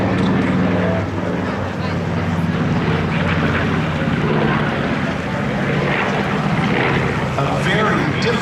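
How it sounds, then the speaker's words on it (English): A P-51 Mustang with a Rolls-Royce design Packard piston engine roars overhead at an air show, a loud, steady droning engine note filling the whole stretch with crowd and wind noise beneath it. "That B-51 Mustang is being powered by a Rolls-Royce design Packard."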